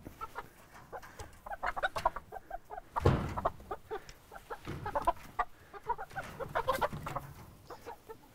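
A farm rooster clucks and murmurs close by before poultry slaughter, producing a busy run of short throaty clucks with a louder squawk near the middle and steady low chatter throughout.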